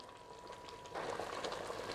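Nihari stew starting to boil in an open pressure cooker makes a soft, close bubbling. It grows noticeably fuller and more agitated halfway through, then keeps a low, steady simmer.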